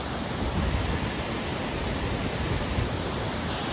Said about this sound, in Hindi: और देखो कल कल बहता हुआ झरना आ रहा है